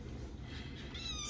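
A tiny kitten gives a faint, high, brief meow near the end, partly buried under steady low background noise.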